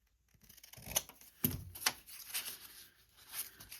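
Scissors snip through scraps of paper up close, several quiet crisp cuts in an irregular rhythm with soft rustling between them, no talking.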